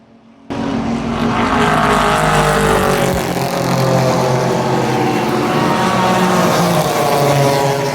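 Toyota Supra and Scion FRS race cars roaring past during a multi-class endurance race, a loud close engine blast rising suddenly and sustaining as they pass, with the engine notes sliding downward.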